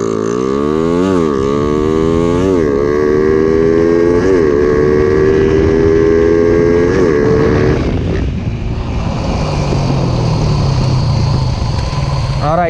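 Loud, close motorcycle engine held at full throttle while its carburetor jetting is being tuned, the pitch rising in stepped surges, then dropping away sharply partway through before a lower, rougher idle-like drone continues.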